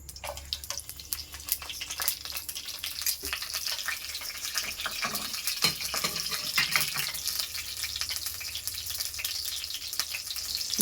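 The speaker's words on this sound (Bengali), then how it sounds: "আবার তেল গরম করতে বসিয়েছি। এর মধ্যে দিয়ে দিচ্ছি লবঙ্গ, এলাচ, দারুচিনি আর হচ্ছে গোটা জিরে।" Whole cloves, cardamom, cinnamon and cumin seeds sizzle in hot oil in a home kitchen: a steady, fairly faint hiss and crackle with scattered small pops, continuous and alone with no talking.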